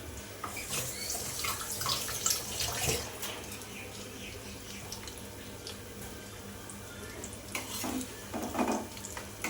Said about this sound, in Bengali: লঙ্কা কটা মিশিয়ে আমি আরেকটু হাত দিয়ে ফেটিয়ে নিচ্ছি